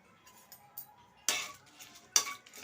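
Two tablespoons of tempering seeds and three dry red chillies hit hot oil for cabbage fry: a near-quiet start with faint clinks, then two loud, abrupt bursts of hissing sizzle about a second apart.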